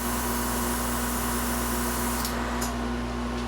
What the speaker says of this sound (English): you want to hold your air gun up just a little bit and give it a good spray